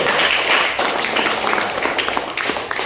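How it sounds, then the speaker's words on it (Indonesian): A classroom of pupils claps together in a religious studies lesson, a steady dense patter of hands that holds at a fairly loud level for a few seconds. "Tepuk tangan untuk ulat dulu."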